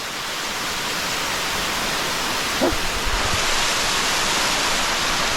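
Tumpak Sewu waterfall in East Java roars up close from the bottom of the falls, a loud, unbroken wall of rushing water with a brief thud near the middle.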